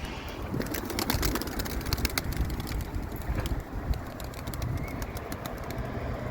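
Dumanlı Tepeli pigeon outdoors, with brief wing flaps and soft bird sounds among steady wind noise and clatter, no clear coo standing out.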